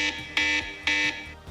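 A Doogee phone's Toolbox app plays its alarm bell: a bright electronic buzzing alarm pulsing in two sharp repeated bursts, close and alone.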